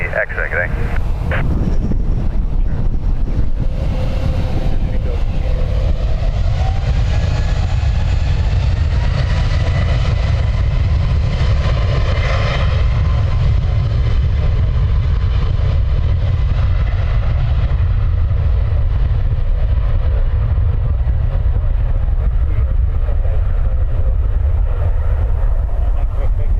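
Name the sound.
airplane taking off from runway 10 right, Dublin Airport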